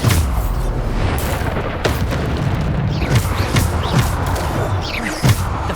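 Bombarda spells from Hogwarts Legacy blast over and over in heavy, booming explosions amid the crackle and thuds of ongoing combat, loud and continuous with no clear pauses.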